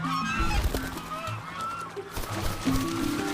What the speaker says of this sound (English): The lionhead goose is 2 to 3 times larger than the average domestic goose.